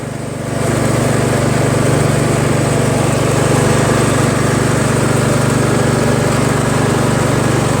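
A Honda HRT216 Harmony II push lawn mower engine starts up and settles into a loud, steady, even drone after a carburetor rebuild, running close by without surging and with no talking.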